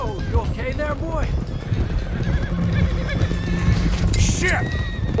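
Horses in Red Dead Redemption 2 whinny and neigh loudly over clip-clopping hooves as a loose stallion is chased, with a voice talking.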